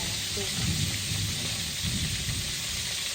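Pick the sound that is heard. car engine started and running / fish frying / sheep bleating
fish frying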